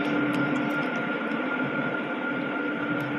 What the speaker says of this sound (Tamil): ட்ரெயின் கடகடன்னு ஆடுது.